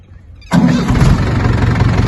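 After a brief quiet rustle, a Mahindra 475 tractor's diesel engine cranks and catches abruptly, then settles into a steady, loud, rough idle.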